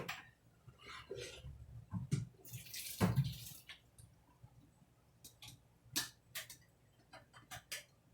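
Cooked kamut grain being drained releases gushes and splashes of water in a few close bursts, followed by clinks and small taps from the pot and strainer, with no talking.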